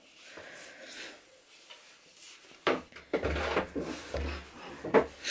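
Wooden drawers are slid into a baby's changing dresser in a nursery, giving a series of close clunks, knocks and scrapes after a quiet opening.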